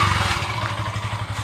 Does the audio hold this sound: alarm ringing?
no